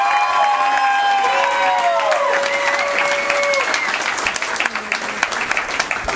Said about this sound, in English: nice round of applause for